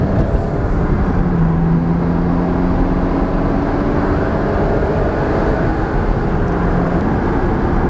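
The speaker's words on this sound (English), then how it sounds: "I cannot tell you how good that car sounds" A powerful Ferrari sports car engine roars steadily at speed, heard from inside the car, a loud continuous drone with road and wind noise underneath, no voices.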